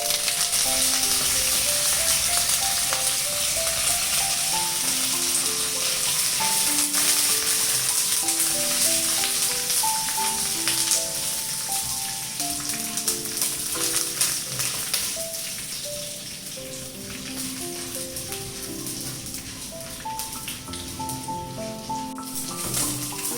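Curry leaves and green chillies frying in hot oil in a pan, a steady bright crackling sizzle throughout, close and fairly loud, with soft background music underneath and no talk.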